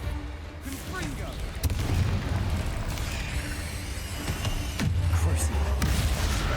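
Confringo fire blast spells in Hogwarts Legacy combat sound as repeated heavy booms and gunfire-like bursts over a loud, dense rumble of battle effects, with a couple of distinct impacts standing out.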